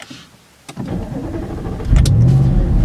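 An Audi RS5 V8 engine cranks and catches, then settles into a loud, rumbling idle that swells into a heavier rev near the end.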